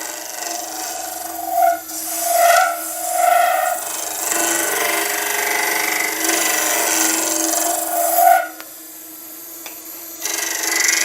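Skew chisel cutting an epoxy and timber egg on a lathe, giving a steady close scraping, rasping sound with brief louder swells of cutting before it thins out near the end; no talking.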